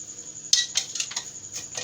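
A few sharp metallic clinks and clanks, close and brief, sound as a metal pressure cooker is picked up and set down.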